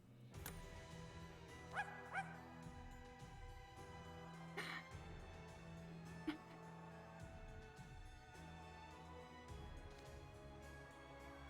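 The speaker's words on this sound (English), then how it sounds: "It has ears and it barks." A skeletal ghost dog with a glowing nose in a video game gives a few short barks over continuous background music, with no talking.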